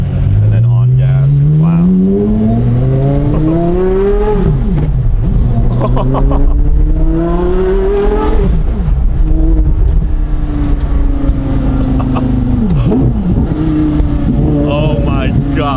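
A sports car engine warming up idles and revs repeatedly, pitch rising and falling in loud surges, close by, with no talking over it.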